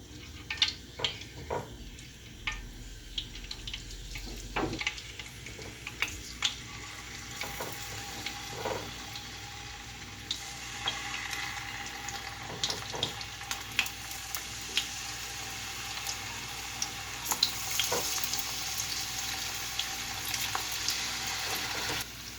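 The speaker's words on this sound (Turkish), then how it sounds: "doğramış olduğumuz patateslerimizi kızgın tavamızda kızartıyoruz" Diced potatoes sizzle and crackle steadily in a hot pan, with occasional scrapes and clinks of stirring, fairly quiet and close.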